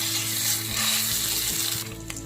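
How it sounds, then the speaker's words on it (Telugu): Onions and green chilies frying in a pan as ginger garlic paste goes in, a steady hissing sizzle under a low hum, with a few faint scrapes near the end. "ఉల్లిపాయలు మంచిగా వేగుతూ ఉన్నాయి కదా, ఇప్పుడు నేను జింజర్ గార్లిక్ పేస్ట్ వేసుకుంటున్నాను"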